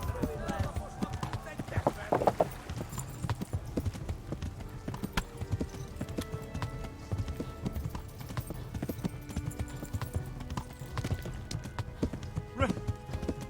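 A horse gallops steadily in the video game Kingdom Come Deliverance, its hooves a continuous rapid clip-clop thudding throughout, mixed with game ambience and occasional louder impacts.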